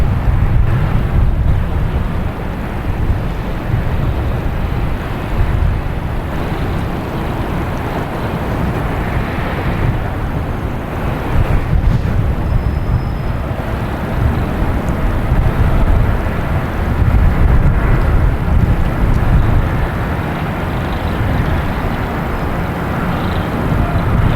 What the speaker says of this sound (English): This is flight 242 heading to Amsterdam in A330-300.